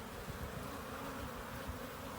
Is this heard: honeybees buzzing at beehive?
yes